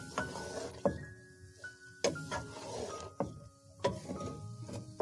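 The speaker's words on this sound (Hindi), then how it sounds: "अब इसी स्टेज पे मैं इसमें ये राइस जो मैंने बॉईल करके रखे थे ये ऐड कर दूंगी और इन्हें अच्छे से मिक्स करें" Boiled rice added to vegetables in a pan for restaurant-style Chinese fried rice and stirred in, giving sharp metallic clinks and scrapes of a spoon against the pan at a steady pace, with a faint sizzle behind.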